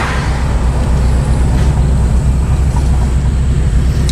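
A 1979 Pontiac Firebird Trans-Am convertible slows while braking, heavy low engine rumble and road noise rolling steadily and close, with no talk.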